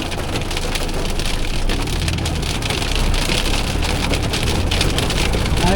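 Hailstones and heavy rain pour steadily onto a surface in Scotland, a dense, loud, continuous patter with sharp clicking impacts and no voices.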